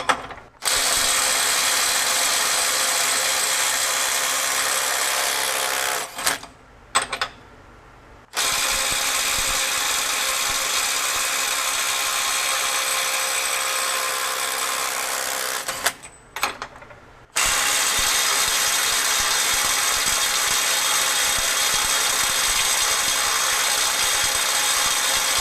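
A Milwaukee M12 FUEL impact driver runs in long continuous bursts of loud, rapid hammering, close by, stopping briefly twice between runs.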